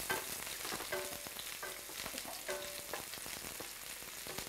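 Small shallots frying in hot oil in a pan, with a continuous loud crackling sizzle and sputtering bursts throughout.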